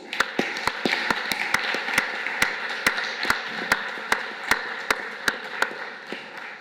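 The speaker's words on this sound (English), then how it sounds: "we invite you to congratulate all the new members with a round of applause" Audience applause at a college membership ceremony, with sharp, distinct claps standing out over a steady bed of broad clapping from a seated crowd, lasting several seconds.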